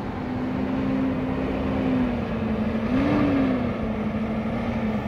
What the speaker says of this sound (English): we'll let the noisy truck drive by